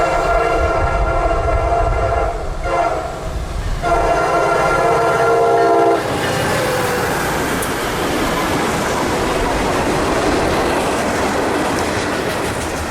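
Loaded freight train Q251 on a line with auto racks and jumbo hoppers sounds its horn in long loud blasts over the rumble of the cars, then the rolling clatter of the wagons goes on steadily and close.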